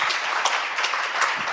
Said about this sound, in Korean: 아울러 지금 더욱 열심히 큰 일을 하고 계신 우리 유재명 단장님께도 응원의 박수 부탁드리겠습니다.